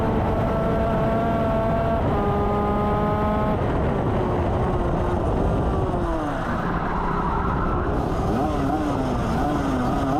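Race cars accelerate together after a standing start, their engines roaring loud and continuous with rising and shifting pitches as they charge off, while a commentator talks over the noise.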